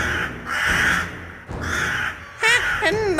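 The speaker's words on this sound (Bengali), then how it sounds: "কাকেরা বাচ্চাটার দিকে চেয়ে চিৎকার করে উঠল" Crows in a Bengali horror cartoon caw loudly in repeated harsh bursts, three separate squawking outbursts with brief gaps, near and aggressive, the last one rising into a shrill screech.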